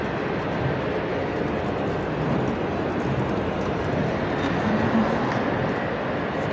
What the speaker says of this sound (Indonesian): Ini kereta menuju Madinah